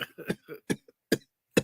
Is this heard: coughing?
yes